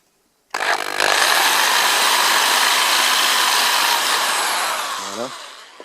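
A drill bit boring a hole for a bottle cage mount, a loud steady high-pitched whine that holds for several seconds before stopping abruptly, with no voices over it.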